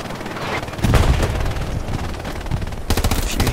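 Sustained machine gun suppressive fire in a video game, a dense, loud, continuous rattle of rounds with heavier bursts partway through and again near the end.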